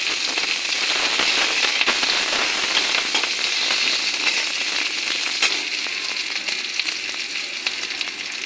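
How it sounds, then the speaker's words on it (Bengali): Chopped onion with bay leaf and whole cumin frying steadily in a pan over low gas, a dense continuous sizzle with scattered crackles and pops throughout, close and fairly loud with no talking. "আমার পেঁয়াজটা ভাজা ভাজা হয়ে গেছে"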